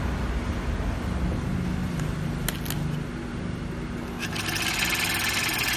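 An industrial single-needle piping sewing machine runs in a steady mechanical whir with a constant motor drone, a few sharp clicks partway through and a brighter rattle near the end, with no talking.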